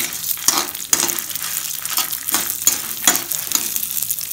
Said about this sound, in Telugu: ఎండుమిరపకాయలు వేసుకొని కొంచెం ఫ్రై చేయాలి